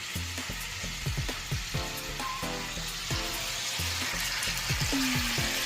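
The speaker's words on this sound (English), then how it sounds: "I'm going to put the salmon right down into that to give it a nice sear." Salmon fillets sear in a pan of hot butter and olive oil, giving a steady, close, fairly loud sizzle and crackle, with sharp knocks and scrapes of the fish and utensils against the pan, and no talking.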